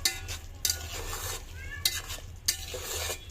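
Fried chicken and potatoes are stirred in a pot for khichuri, with a soft sizzle underneath and several sharp scrapes and knocks of the spoon against the pot.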